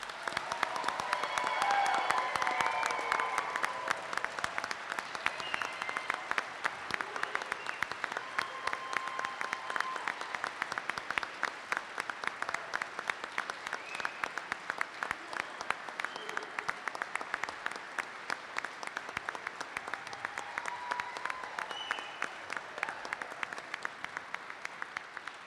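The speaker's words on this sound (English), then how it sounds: "Let's give a round of applause to the Army's newest second lieutenants." Long, sustained applause from a ceremony audience for the Army's newest second lieutenants at an ROTC commissioning, many hands clapping steadily at moderate loudness with crisp individual claps throughout.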